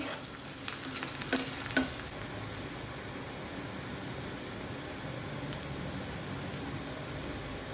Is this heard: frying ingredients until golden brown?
yes